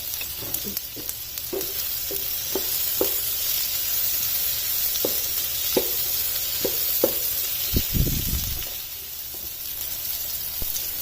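Green chillies frying lightly in hot oil give a steady, close sizzle, with scattered sharp pops and crackles and a brief low rumble partway through; no one speaks.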